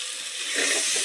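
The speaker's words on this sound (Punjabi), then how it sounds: "ਤੜਕੇ ਦੇ ਨਾਲ ਹੀ ਆਪਾਂ ਸਿੱਟਦੇ ਆਲੂ" A brief burst of bright hiss and crackle rises as potatoes hit hot oil with a tempering of spices, sizzling steadily close by.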